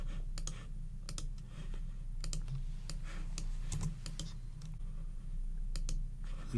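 A computer mouse clicks faintly and repeatedly at close range during editing work on a computer, with sharp light clicks scattered in small irregular clusters over a low steady hum.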